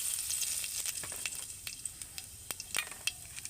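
Whole cumin seeds sizzle in a little hot white oil in a kadai, a steady bright hiss with scattered sharp pops and crackles throughout, close and fairly quiet.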